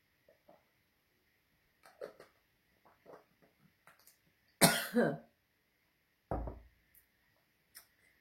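Two sharp, close coughs stand out against a quiet room, followed a moment later by a third, with faint small movements and clicks around them.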